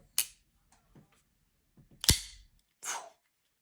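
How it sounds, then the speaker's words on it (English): A custom folding knife blade flips open on bearings, giving sharp, loud snapping clicks, one near the start and a stronger one later, with faint handling clicks between and a brief rustle afterward. "great flipping action on bearings"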